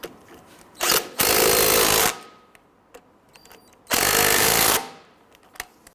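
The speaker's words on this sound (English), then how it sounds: "Get our bolt started. Let's go ahead and tighten those down." An impact-style power tool runs two loud, close bursts of about a second each while tightening bolts on a front shock and spring assembly of a 2007-2014 Cadillac Escalade, with quiet gaps and light clicks between.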